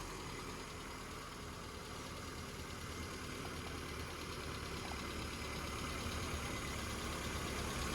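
A CMC Riviera car engine idles steadily after tuning, giving a continuous even rumble that holds at a constant level throughout.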